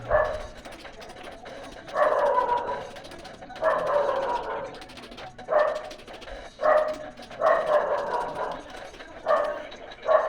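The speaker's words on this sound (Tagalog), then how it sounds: "ingay ng aso ah" A dog barks repeatedly in short bursts and runs of barks, fairly loud and close, with pauses between volleys.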